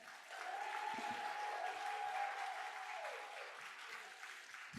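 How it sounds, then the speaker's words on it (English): Steady audience applause rings out in a school auditorium for student speakers at a Chicago Public Schools Martin Luther King oratorical competition, holding a broad even clatter for several seconds at moderate distance. "Let's give them all a round of applause."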